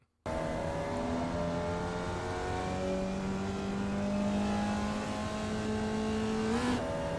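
Formula Vee race car engine in the iRacing sim at Oulton Park, droning steadily and building revs across the whole stretch, with rising harmonic tones and a brief surge near the end, loud and alone without talk.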